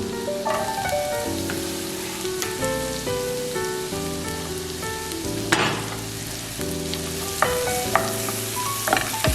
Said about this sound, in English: Then I'll drop in the white onions.